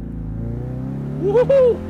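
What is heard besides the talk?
2020 Ford Mustang engine revving with exhaust crackle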